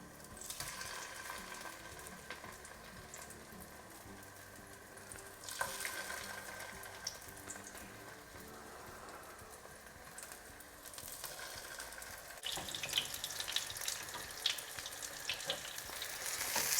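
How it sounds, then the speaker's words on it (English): Egg-dipped paneer pieces frying in hot oil over high heat, a steady low sizzle with brief louder bursts as pieces drop in, close and alone with no talk. "So I'm going to get the paneer, dip it in the egg, and then go straight into the hot oil."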